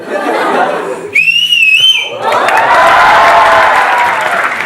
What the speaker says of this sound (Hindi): सर आपके लिए एक सीटी मारना चाहती हूँ,